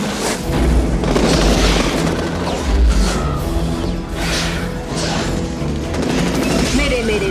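Heavy bomb explosions from a science-fiction war movie trailer, deep booming blasts over a dense, continuous din of gunfire and crashing impacts, loud and close throughout with a voice shouting among them.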